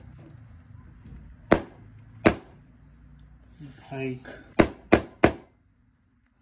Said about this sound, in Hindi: यहाँ पे ये कास्ट तोड़ने के लिए हथौड़ा दिया है, तो ये हम लोग ये मोबाइल पे ट्राई करके देखते हैं।